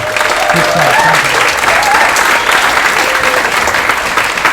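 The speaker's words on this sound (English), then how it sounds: "Let's just show our applause, because we would not be here if it wouldn't be for them as well." Loud, dense applause fills the room without letup, many hands clapping together for the sponsors at the 2019 Tech + Homelessness event, with a faint murmur of voices underneath.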